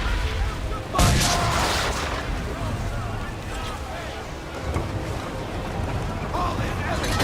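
Naval cannon fire aboard a sailing warship in Assassin's Creed III, with a loud boom near the start over a constant roar of wind and sea, a few more distant blasts following, and shouted voices.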